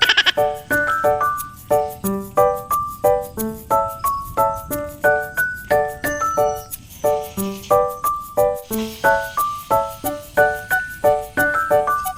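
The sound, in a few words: goats bleating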